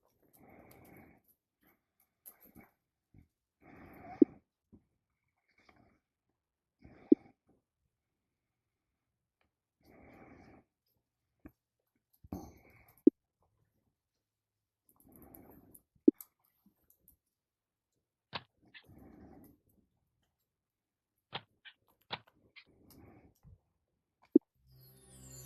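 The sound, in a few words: dog growling in DetectiveVR video game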